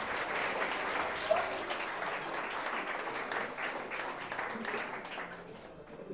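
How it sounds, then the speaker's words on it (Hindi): An audience at a career counseling seminar in Bilaspur applauds loudly and steadily for a student. The clapping fills the room evenly from start to finish. "इस बच्चे के लिए जोरदार ताली बजाते हैं।"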